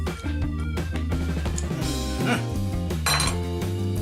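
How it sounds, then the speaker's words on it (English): A spoon scrapes and clinks around a bowl while stirring thick cookie dough, with steady background music playing throughout. "you just want to mix all this together. It sounds funny."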